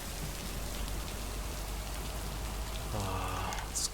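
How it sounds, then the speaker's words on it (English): Steady rain in the video game Lake, a constant hiss of falling drops on surfaces, fairly soft and unbroken, with a faint tonal sound near the end. "It's quite good rain sound in this."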